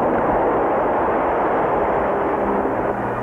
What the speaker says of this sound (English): didn't wake up until that first atomic explosion